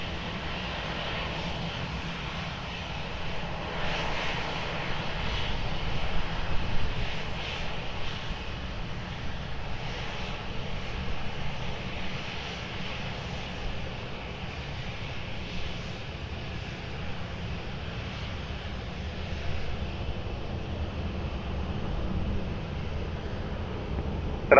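An airliner's engines roar steadily on runway 20 at Lisbon Airport, a continuous, broad rumble that swells slightly and holds, with wind buffeting the microphone.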